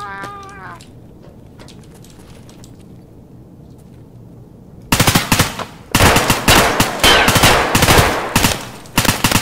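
Rapid bursts of machine gun fire from Escape From Tarkov's Factory map, with loud, dense volleys cracking in repeated clusters after a quieter opening stretch.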